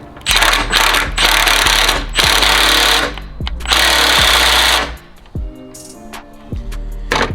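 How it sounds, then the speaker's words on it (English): An impact wrench tightens a bolt on the PCM cover of a Dodge Challenger, Charger or Chrysler 300, close and loud, firing in several hammering bursts of about a second each with short pauses between them. "Taking that black bolt, throwing it in, taking the impact."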